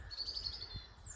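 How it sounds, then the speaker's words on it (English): Birds sing outdoors on a spring day, a thin high chirping line repeating faintly over a soft steady background hum, with no voices. "listen to the bird song,"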